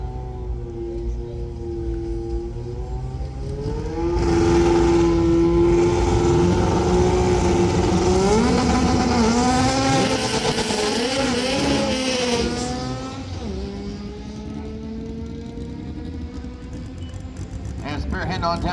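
A B-series Honda Civic drag race car from Redline, Pennsylvania roars down the strip, its engine loud and climbing in pitch through the gears before fading, while an announcer talks over it.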